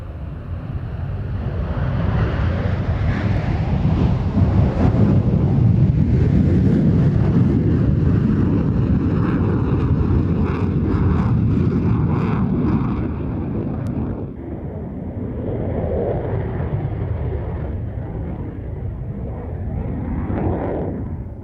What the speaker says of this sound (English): This is the 2000C Interceptor